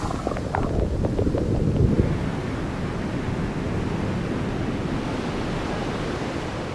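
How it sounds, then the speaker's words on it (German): Strong wind on a winter beach at Sylt on the North Sea, a steady loud roar buffeting the microphone throughout, with surf washing underneath and no voices. "wir haben ja relativ viel Wind oft"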